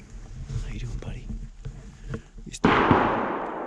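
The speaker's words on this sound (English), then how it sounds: "Oh, there goes the fireworks." Fireworks burst out in the open during an Iowa shotgun deer season hunt, a sudden loud bang followed by a sustained crackling roar, after a stretch of quiet murmured talk and faint rustling.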